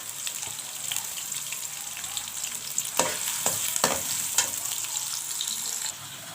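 A large chopped onion sizzles and fries in a pan while being stirred. Spoon scrapes and clatters sound close and sharp over a constant sizzle, with no talk.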